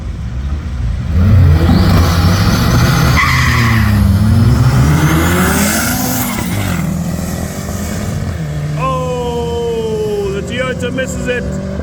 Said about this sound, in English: It's a misfire, and the other car is gone.